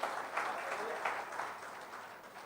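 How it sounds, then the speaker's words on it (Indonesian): In a church worship service, the congregation claps in applause, a faint, distant patter of many hands with a few slightly louder pulses, lasting a couple of seconds. "Beri tepuk tangan bagi Allah kita."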